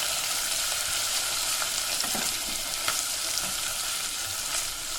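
Onion, ginger garlic paste and green chillies fry in a pan, a loud, constant sizzle with a few faint stirring ticks and no voice.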